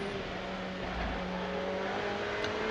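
A Ferrari Challenge race car at Imola circuit accelerates back on the throttle after taking the curbs, a steady, fairly faint engine drone holding an even pitch throughout the short stretch.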